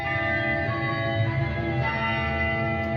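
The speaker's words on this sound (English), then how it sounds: "if you listen really closely to the way I auto-tune the bells, they're just a little bit off." Auto-tuned, slightly detuned bells from a song ring in a descending line, bright and sustained with overlapping tones, alone and loud.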